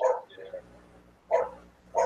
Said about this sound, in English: Somebody's dog is barking. Oh, it's outside my window.